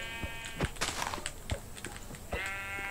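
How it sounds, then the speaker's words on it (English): Sheep in the Minecraft video game bleat repeatedly in short overlapping calls, some close and loud, with soft footstep-like clicks between them. "Another black sheep and another white sheep."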